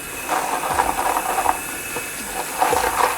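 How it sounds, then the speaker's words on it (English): Water sprays and hisses steadily while rinsing a bike chain, a continuous close wash of noise with faint clicks and drips mixed in, no voices. "So now we just want to give it the final rinse."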